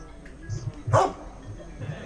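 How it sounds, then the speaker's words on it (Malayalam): Dog barking at a small rest hut near an off-road riding spot in Vattavada, Munnar, with a few short low barks and one louder, brighter bark in the middle, fairly close, over faint background noise. "ഇവിടെ പട്ടി കിടന്ന് നല്ല കുരയാണ് കേട്ടോ"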